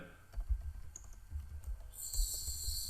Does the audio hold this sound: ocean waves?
no